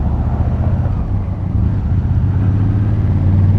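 A Honda Africa Twin motorcycle's engine and exhaust rumble steadily inside a tunnel, a loud, close, continuous low drone with no pauses.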